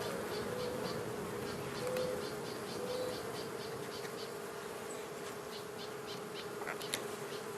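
Gentle honey bees in a new hive keep up a steady, close buzzing drone, with faint individual wingbeats flicking past and no talking.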